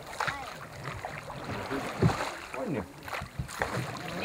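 A rowing boat moves along a winding river, oars knocking and water splashing in rhythmic strokes while people talk over it outdoors.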